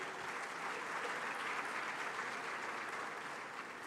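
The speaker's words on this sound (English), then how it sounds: "a resounding round of applause to celebrate such a gallant" A ceremony audience in Accra, Ghana applauds in a dense, even wash of clapping, steady and unbroken for the whole stretch.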